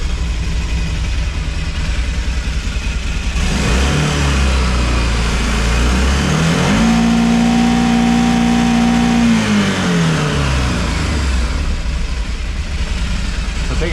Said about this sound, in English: just gonna start it up, start giving it some RPMs, blip the throttle a little bit